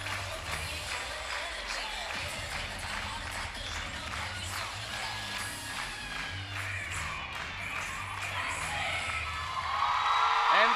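Crowd at a cheerleading championship cheering a team's routine, a steady roar of whoops and applause with thumping music beneath, building louder toward the end while an announcer talks over it.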